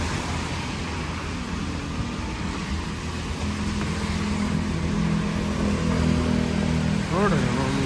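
Vehicles driving along a busy one-way street in Phuket near Bangla Road, a continuous loud mix of motorbike and car engines with some revving, heard under someone talking.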